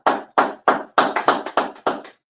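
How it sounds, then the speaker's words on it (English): A few people clap in unison at a church Sabbath service, a sparse, close series of about ten sharp, evenly spaced claps with clear gaps between them and no talk. "Clap it up."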